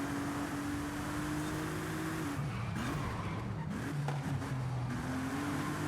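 In Forza Horizon 5, a car's engine holds a steady loud drone as it corners, its pitch dropping and climbing through gear changes, with tire squeal and revving as it slows through a turn and then accelerates out.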